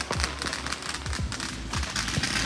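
Fireworks and firecrackers set off in a neighborhood street battle, giving a dense run of crackling pops and sharp bangs with a few rising whistles, loud and close, continuing without a pause for the whole stretch.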